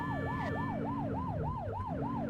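A police car siren wails in the game The Precinct, a rapid repeating yelp that sweeps up and down about three times a second, loud and continuous over a low engine rumble.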